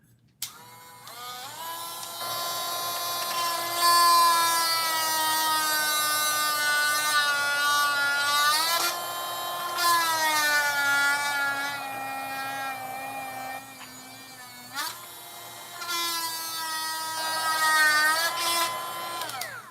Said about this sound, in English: This little grindstone is so good on plastic. This is a little cordless Dremel light.